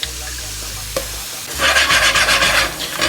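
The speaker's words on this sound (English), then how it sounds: "It's now time for some onions, some garlic." Onions and garlic cooking in a pan for mole poblano, a steady low frying hiss with scraping stir strokes that grow louder and rougher in the second half, no talking.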